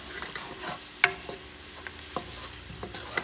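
Garlic, thyme and Italian parsley frying in a pan, a soft steady sizzle with occasional clicks and stirring knocks, close and fairly quiet with no talking.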